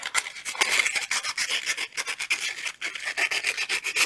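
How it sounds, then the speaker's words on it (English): Close, steady rasping of sanding on the razor-sharp wire tip at the edge of a wire-wrapped ammonite pendant, quick repeated rubbing strokes running continuously with no talk. "I'm just going to take that razor edge, little tip out, and sand it."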